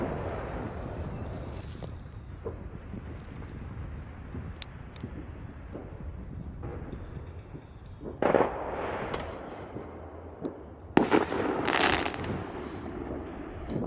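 Fireworks going off outdoors near a waterside property on Whidbey Island on the 4th of July, a steady crackling rumble with several sharper, louder bursts late on.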